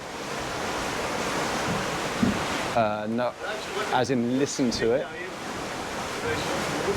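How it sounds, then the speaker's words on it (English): Rushing water and wind roar continuously as an Excess 13 sailing catamaran moves through waves, with a voice speaking briefly over the noise. "I want you to see what it's like going through these waves."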